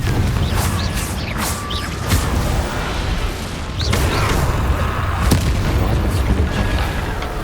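A Confringo fire spell bursts in Hogwarts Legacy gameplay amid a dense, loud wash of combat effects: booming impacts, crackling blasts and whooshes layered over a continuous rumbling game score, with no speech.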